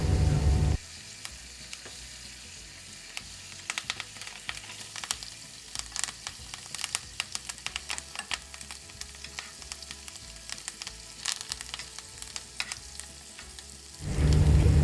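Pork steak fries in melted butter with garlic and fresh thyme, a continuous close sizzle scattered with crackling pops, swelling louder at the start and end. No speech is heard.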